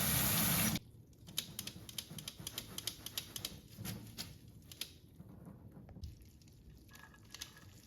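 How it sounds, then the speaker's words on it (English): Cold tap water runs steadily over drained noodles being rinsed, a continuous splashing wash with irregular patters and drips, close and moderately loud, with no talking. "After draining water, rinse it with cold water."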